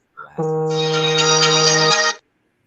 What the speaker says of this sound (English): that phone call interrupted